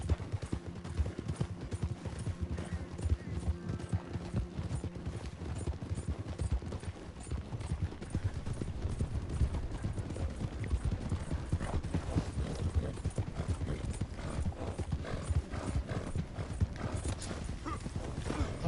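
A horse gallops continuously in Red Dead Redemption 2 online, a dense, fast drumming of hooves that stays close and steady throughout, with faint game ambience and no talk.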